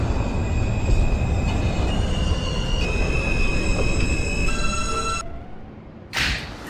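A simulated R subway train runs in the OpenBVE simulator, a loud steady rumble of wheels on track with whining motor tones that shift, before the sound drops off and a short burst follows near the end.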